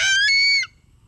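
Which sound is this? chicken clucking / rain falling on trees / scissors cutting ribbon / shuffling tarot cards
chicken clucking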